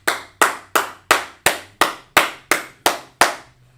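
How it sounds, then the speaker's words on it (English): Ten loud, evenly spaced hand claps ring out close by, a class clapping in unison for a student, each crack decaying briefly before the next, with no talk over them. "Clap it up for that brother right there."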